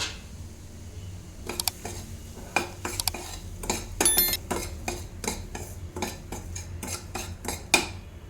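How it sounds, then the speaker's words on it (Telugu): Fine semolina is roasted and stirred in oil in a pan, with a rapid series of sharp metal spoon scrapes and clinks against the vessel over a low background sizzle, close by, no talking. "ఇందులో సన్నరవ వేసేసుకొని వేయించుకోవాలి"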